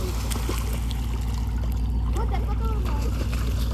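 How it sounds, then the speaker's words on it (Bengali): A passenger launch passes on a river, its engine a deep, steady drone and throb close by with water sloshing around, while people talk over it. "এই দেখো লঞ্চ দেখা, লঞ্চ দেখা, লঞ্চ দেখা।"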